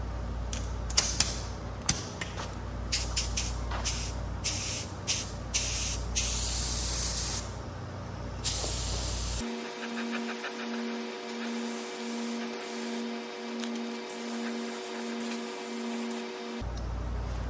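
A spray gun applies 2K urethane primer to a chrome bumper in a paint shop, a steady hissing spray with intermittent clicks and trigger bursts, followed by a sustained even hiss over a low mechanical hum.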